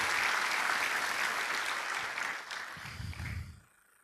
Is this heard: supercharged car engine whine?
no